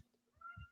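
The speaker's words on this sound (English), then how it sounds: "that's my cat." A house cat gives a single short meow, quiet and somewhat distant, rising briefly in pitch with faint low background noise.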